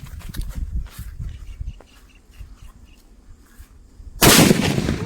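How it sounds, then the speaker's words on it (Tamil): A half-kilo Avatar paper bomb firecracker from Sivakasi goes off with a sudden, loud, close blast near the end. The burst follows a few seconds of quieter low rumbling and handling noise, and its crackling roar carries on to the finish. "அதை விட பெருசு 1/2 கிலோ இந்த அவதார் பேப்பர் பாம் வைக்கலாம் வாங்க"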